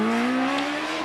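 Empire Evo hillclimb race car driving on a course, its engine a loud, steady, close drone with a slowly rising pitch under acceleration, held throughout without a break.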